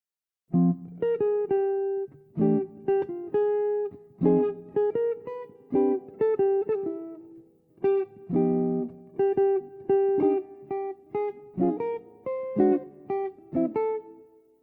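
Solo jazz guitar playing a chord-melody phrase, clean plucked chords and single melody notes in a measured rhythm, close and clear with no talking.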